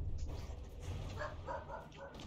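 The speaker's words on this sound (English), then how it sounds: "now she's barking like crazy" A dog barks repeatedly in the background of a home during a game session, the barks moderately loud and clustered, over a steady low hum.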